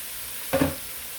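Crab pieces drop into a pot of Jamaican curry, giving a short burst of sizzling and stirring that rises and fades within a moment against a quiet kitchen background.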